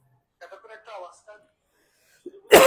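Someone speaks briefly during an online economics lecture, then after a short pause a single loud, harsh cough bursts out close to the microphone.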